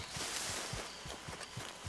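Horse hooves in Red Dead Redemption 2, a steady clip-clop of even footfalls under a constant outdoor game ambience, moderately close.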